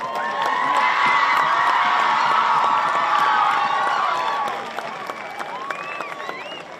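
Stadium crowd at a high school varsity football game applauding senior band and guard members, with steady clapping and cheers that fade after a few seconds into scattered shouts and lighter claps.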